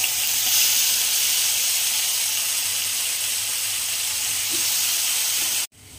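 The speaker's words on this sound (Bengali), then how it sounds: "এবার ওই তেলেই আমি দিয়ে দিচ্ছি এই যে আগে থেকে বেটে রাখা মশলাটা।" Ground spice paste sizzling in hot mustard-style fish-frying oil with nigella seeds for a Bengali tel koi curry, a steady close hiss and crackle that runs continuously and then cuts off abruptly near the end.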